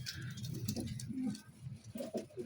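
Aseel pigeons cooing close by in a breeder's loft, soft low murmuring coos running continuously through the moment with faint rustling behind.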